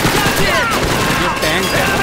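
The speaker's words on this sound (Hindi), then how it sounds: "कहाँ से आ रही है गोली?" Gunfire crackles in an old video game, a dense, continuous barrage of shots and automatic fire filling the whole stretch at a steady loud level, with game noise layered over it.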